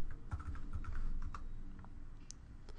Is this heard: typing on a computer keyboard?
yes